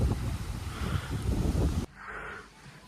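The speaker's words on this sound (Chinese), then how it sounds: "这大风也太大了" Strong wind buffeting an outdoor campsite, loud rumbling gusts hitting the microphone, then dropping abruptly to a softer, steadier whoosh.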